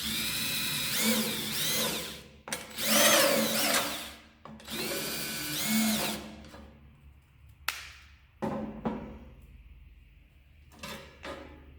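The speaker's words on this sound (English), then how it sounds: "Use a chamfer bit, countersink bit for these flathead screws." A drill with a countersink bit spins up in several brief, rising bursts, followed by scattered clunks and light handling noises nearby.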